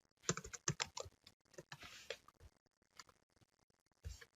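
Quick bursts of typing on a computer keyboard, close and crisp, with irregular clusters of keystrokes and short pauses between them, recorded fairly quietly and with no talk.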